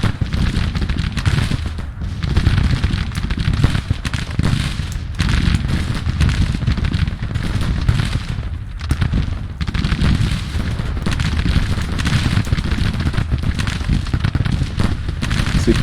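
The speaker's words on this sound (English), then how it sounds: "We got an elite artillery battery behind us. We'll see how well these Sharps rifles do." Sharps rifles and an artillery battery fire in a Grand Tactician: The Civil War battle, producing a dense, continuous roar of overlapping volleys and booms that stays loud for the whole stretch with only brief dips.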